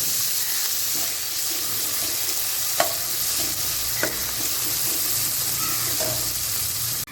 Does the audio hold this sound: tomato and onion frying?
yes